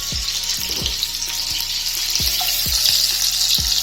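Sausages frying in butter in a pan for bangers and mash give a steady sizzle with sharp pops and crackles.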